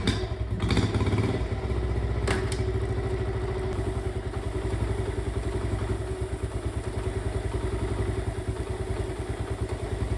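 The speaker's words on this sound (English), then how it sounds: "Definitely don't do this with the engine running." A 1970 Honda Trail 70 motorcycle engine running at a steady idle, a close, continuous low putter with some mechanical clatter and a couple of thumps near the start, with no talk.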